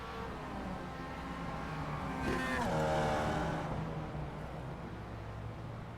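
Race car engines droning at Oran Park in a dirt-to-Daytona racing video game, a steady hum with one car swelling louder and passing by midway with a falling pitch.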